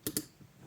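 Two quick, sharp computer mouse clicks in close succession, crisp and close, followed by quiet.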